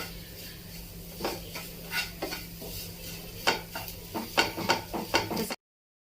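A sweet potato sheera mixture with ghee and sugar is stirred in a pan, giving soft irregular scraping and clinking strokes, close and fairly quiet, with no talking, before cutting off abruptly.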